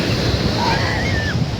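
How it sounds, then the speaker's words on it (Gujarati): Big sea waves surge in a stormy wind along a fishing coast with boats hauled ashore, a steady roar of surf and gusting wind buffeting the microphone throughout. "અત્યારે ફૂલ તોફાન વધી રહેલું છે બહુ મોટા મોટા મોજા આવે છે"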